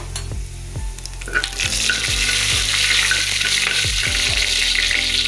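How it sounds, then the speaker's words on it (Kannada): Whole spices, including fennel seeds and kasuri methi, sizzle in hot oil, a close, bright crackling hiss with a series of rhythmic stirring strokes and no voices. "ಎಣ್ಣೆ ಕಾದಿದೆ, ಇವಿಷ್ಟನ್ನು ಹಾಕ್ಬಿಡಿ."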